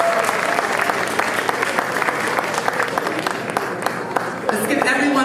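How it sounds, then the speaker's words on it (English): Loud, dense applause from a crowd at a Houston Africa Day celebration honoring a chef of regional cuisine, steady clapping filling the whole span with a host's voice carrying over it. "Let's give him a round of applause to the chef"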